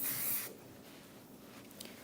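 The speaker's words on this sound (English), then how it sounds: "we're gonna spray some Rapid Shine" A short hiss of an aerosol hair shine spray at the start, fading into quiet room tone in a salon.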